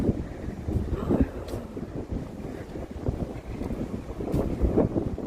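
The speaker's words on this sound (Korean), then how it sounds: "물소리가 너무 좋습니다." Sea water washing and lapping near a lighthouse on an open stretch of ocean, a steady close wash with wind buffeting the microphone and no voices.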